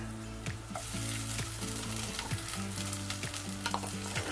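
Onions fried until deep brown, almost black, sizzle in a pan as ginger goes in, with a steady crackling fry and a few stirring scrapes, close and alone, no speech, while a low electrical hum runs underneath.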